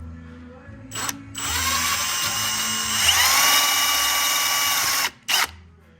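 A power drill whines steadily while boring small holes into the main seal of a Harley 4-speed transmission. It runs continuously for several seconds, shifts pitch partway through, then stops, followed by a short burst.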